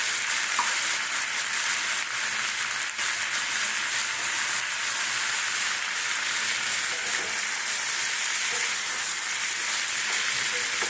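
Snake gourd and potato curry fries in a pan with a loud, constant, close sizzle and hiss, while faint scraping from stirring runs underneath.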